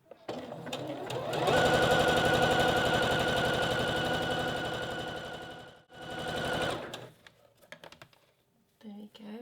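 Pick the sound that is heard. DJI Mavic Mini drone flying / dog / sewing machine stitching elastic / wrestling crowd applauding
sewing machine stitching elastic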